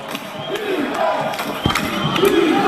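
Lake Howell varsity football crowd on its feet cheering and shouting, a loud, sustained roar of many voices in a stadium, with scattered claps and whistles.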